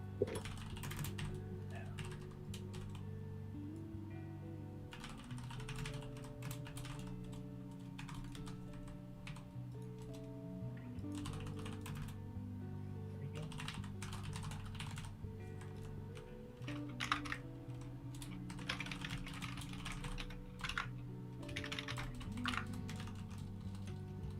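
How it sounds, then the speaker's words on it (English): Rapid clicky typing on a loud computer keyboard comes in bursts with brief pauses, fairly quiet and close, with faint talk now and then. "I forgot how obnoxious your keyboard is when you're actually typing on it"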